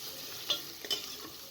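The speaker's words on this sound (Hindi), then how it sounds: "इसके अंदर अदरक और लहसुन को शामिल करके भून लें" Ginger and garlic sizzle frying in a pan with a few sharp stirring scrapes, steady and close, with no voices.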